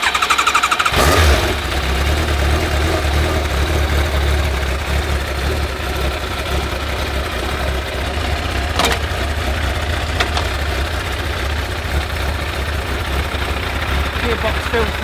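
A rebuilt Yamaha YZF1000R motorcycle engine fires up after a brief start and settles into a steady, loud running drone close by, with a sharp click or two partway through.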